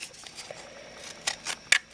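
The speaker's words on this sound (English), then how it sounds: "So I'm using these scissors right here from Fiskars." Fiskars decorative-edge scissors cutting clear plastic for craft thank-you card packs, heard as a few soft, close snips and crunchy cuts spaced over a quiet background, the last one sharpest.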